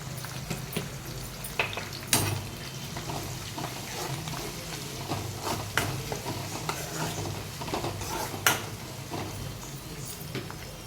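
Dried red chillies and turmeric tempering in hot oil for a Telangana-style raw mango pickle and pulihora, with a steady sizzle and occasional crackles and stirring clicks close by.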